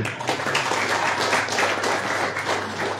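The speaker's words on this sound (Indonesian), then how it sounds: "Tepuk tangan." A crowd applauds, dense clapping sustained for a few seconds at even strength.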